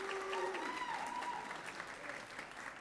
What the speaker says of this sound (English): She deserves all of the applause